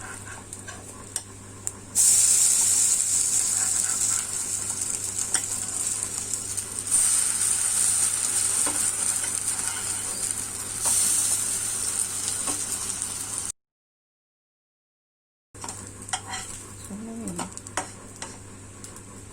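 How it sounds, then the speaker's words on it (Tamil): Mini rava uthappam fry in ghee on a hot pan, a loud, continuous sizzle with ticking crackles and brief scrapes as they are flipped, broken by a short gap of silence. "மேல கொஞ்சமா நெய் ஊத்தி விட்டுருங்க. திருப்பி விட்டுடலாம்."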